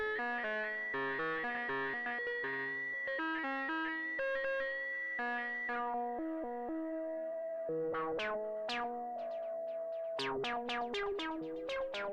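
A Eurorack modular synth plays with an envelope patched into FM, giving a continuous sequence of bright, plucky pitched notes that shift in timbre. The later notes are sharper and more percussive, with no talking.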